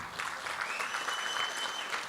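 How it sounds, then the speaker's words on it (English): Steady applause from a conference audience at the Zabbix Summit 2022, dense clapping filling the whole moment at moderate loudness with a faint tone running underneath and no talk. "Let's have a round of applause for them."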